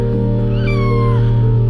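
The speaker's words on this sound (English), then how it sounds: "The driver of the garbage truck discovered kittens among the trash and got them out." One drawn-out kitten meow, rising then falling, over a loud steady low hum of a garbage truck's machinery.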